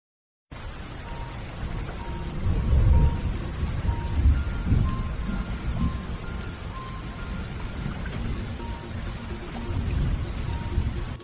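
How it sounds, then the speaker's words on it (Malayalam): Heavy rain pours down in a steady, dense hiss that swells and fades slightly, with low rumbling underneath suggesting distant thunder, heard alone without voices. "ഹോ, എന്തൊരു മഴയായത്."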